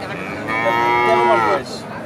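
A Holstein Friesian heifer calf, about thirteen months old, moos at a busy cattle market: one loud, drawn-out, close call with a strong tonal quality, standing alone over a low crowd murmur.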